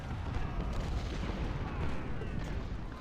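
Artillery booms roll across a Civil War battlefield in Ultimate General: Civil War, distant cannon fire under a continuous low rumble of combat, fairly faint, with some talk mixed in.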